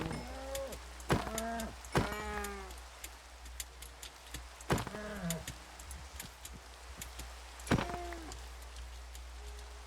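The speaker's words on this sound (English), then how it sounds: "There are some cows we can go kill." Cattle in a video game lowing in several drawn-out moos, some overlapping, over a steady low background hum with faint clicks, fairly close and without talk.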